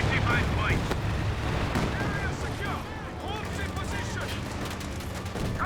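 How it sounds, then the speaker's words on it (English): A Calliope rocket barrage rains down in a Company of Heroes 2 battle: a dense, continuous roar of launches and explosions with whistling rockets streaking overhead, loud and unbroken throughout. "Now got another Calliope rocket barrage in this region."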